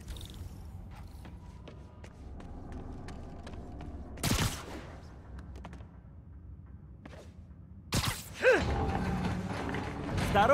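Mechanism of a stuck elevator in Marvel's Spider-Man video game creaks and clicks with faint ticking and rattles, broken by two loud metallic bangs and grinding bursts, the last swelling into heavy clanking.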